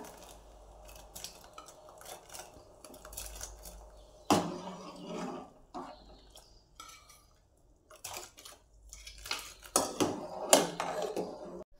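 Sago pearls poured into a pot of rolling boiling water on a lowered gas flame, then stirred from the bottom, giving scattered utensil scrapes and clinks against the pot, louder in bursts toward the end, with no talk.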